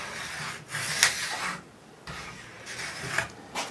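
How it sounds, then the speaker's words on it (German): Plastic scraper rubbing along ski edges to strip off wax, several short rasping passes with brief pauses between them, close and fairly loud with no voices. "Die ist dafür da, um den Wachs an den Kanten abzumachen, damit die Kante auch frei liegt und gleich greifen kann."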